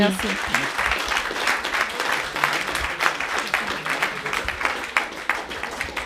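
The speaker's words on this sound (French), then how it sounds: "Merci, on peut encore l'applaudir." An audience at a business talk applauds Madame Courtade, a sustained round of clapping with distinct individual claps standing out, steady and moderately loud across the whole stretch.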